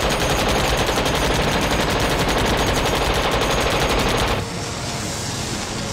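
Sustained automatic gunfire from a war film battle scene, loud and dense with rapid machine-gun bursts for about four seconds before dropping to a lower, steadier roar of continued shooting.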